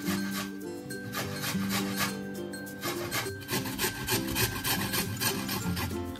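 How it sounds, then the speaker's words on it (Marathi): Indian gooseberries (amla) are grated on a hand grater in quick, rhythmic scraping strokes, close and continuous, over faint background music. "आता ना हे आवळे आपण किसून घेऊयात।"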